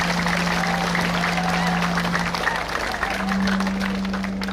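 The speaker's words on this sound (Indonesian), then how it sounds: "Mari kita menyatakan pembukaan kegiatan ini dengan tepuk tangan bersama." Dense, steady clapping from a crowd opens a senior high school arts and literature festival in Kupang regency, East Nusa Tenggara, with a constant low electrical hum running underneath.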